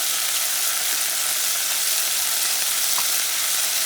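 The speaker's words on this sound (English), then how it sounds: "And just simmer it for about maybe 30 to 60 seconds." Red bean stew ingredients bubble and sizzle in a pot, a constant bright hiss close by with a faint scrape or two and no voices.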